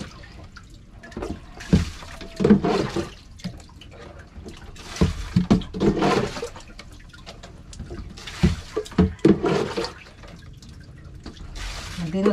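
Water bailed by hand with a dipper out of a small fishing boat at sea: irregular splashes, drips and pours come in bursts, with people talking nearby.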